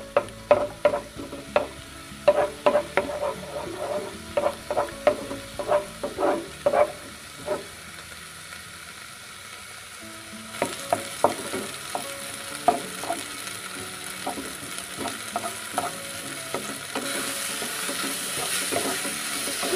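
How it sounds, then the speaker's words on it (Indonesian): Egg goes into a hot frying pan and sizzles steadily while a utensil scrapes and clacks against the pan in repeated stirring strokes; the sizzle grows louder and hissier partway through, with no talking. "lalu masukkan telur"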